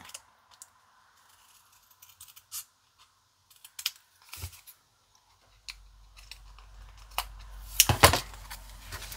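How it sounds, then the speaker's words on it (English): Scissors snip card along a pencil line while a grand piano shaped greeting card is made, giving quiet, scattered crisp clicks and cuts close by, ending in a louder rustle of handled card. "So we're just gonna snip this bit out."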